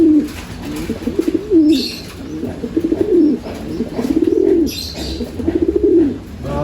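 Pigeons in a loft give loud, close, repeated rolling coos in regular bursts, with a faint higher chirp now and then in the background.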